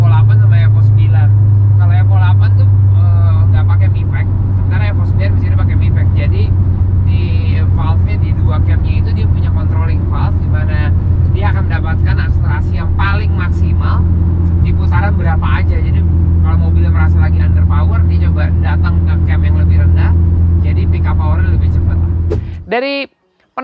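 A Mitsubishi Evo IX wagon engine revs steadily with a strong low drone as turbo boost builds, loud and continuous for most of the clip, with talk over it before a sharp cutoff at the end.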